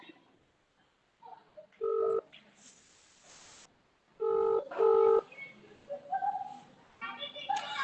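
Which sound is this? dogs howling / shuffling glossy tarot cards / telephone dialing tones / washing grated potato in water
telephone dialing tones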